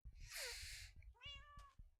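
A Minecraft cat gives two or three short, clear meows in a row, close and fairly quiet, with no talk over them.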